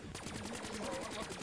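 Rapid automatic gunfire in a zombies video game, a dense continuous burst of shots at steady volume with faint voices underneath.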